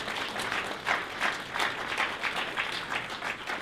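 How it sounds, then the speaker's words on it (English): A room applauding WWII veterans: dense, close clapping from many hands, fairly quiet overall and steady throughout the short stretch. "Let's give them a round of applause"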